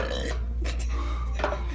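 A single low burp rumbles from a person at close range, a drawn-out throaty sound with little else around it.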